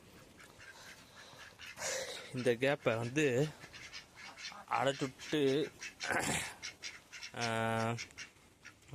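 Ducks quacking in short repeated calls near a farmyard enclosure, with someone talking throughout and the quacks breaking through between and over his speech.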